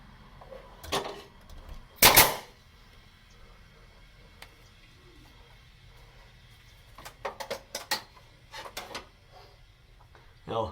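Nail gun firing into shiplap ceiling boards on a front porch, several sharp isolated shots spaced apart, one loud and close, with quieter clustered pops later and faint speech between.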